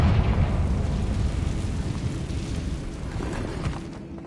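A fiery spell blast from the Hogwarts Legacy video game erupts as a loud, rumbling explosion that slowly decays into a crackling roar.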